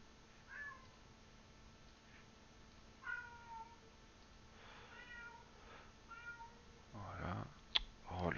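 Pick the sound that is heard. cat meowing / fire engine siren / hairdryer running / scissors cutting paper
cat meowing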